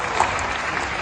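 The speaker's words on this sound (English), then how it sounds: "Quite Loud when you clap in front of the microphone." Audience clapping close to a microphone at a Hasbro Star Wars fan panel in Paris, a dense, steady burst of applause lasting about a second with a faint crowd murmur behind it.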